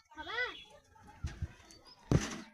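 Pigeons in a home loft, with a faint rising and falling call early on, then a few soft wing flutters and shuffling bumps nearby, all quiet and close.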